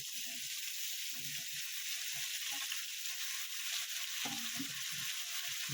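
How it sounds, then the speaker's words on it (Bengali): Mixed vegetables for panchmisali sabji fry in a pan without spices, a steady soft sizzle with light stirring scrapes, quiet and continuous. "আমি এটাকে একটু ভাজা ভাজা করে নেব।"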